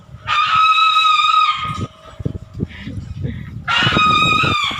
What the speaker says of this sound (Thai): ดูเสียงเสียงร้องรอรอกล้วยครับ